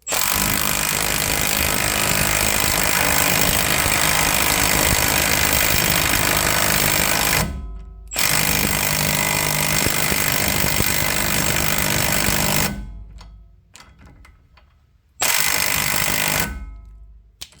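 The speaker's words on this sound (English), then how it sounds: "all you need to do is grab yourself an impact" A loud impact wrench tightens wheel studs on a Subaru Sambar kei mini truck, hammering in long continuous bursts, pausing briefly between runs, close and dominating everything.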